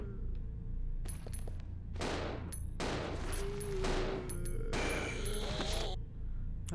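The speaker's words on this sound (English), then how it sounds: "I have no choice but to shoot you" Repeated gunshots fired in Resident Evil Zero inside a tight, narrow hallway at the Umbrella training facility, several loud separated bursts with ringing metallic tails and low game music beneath.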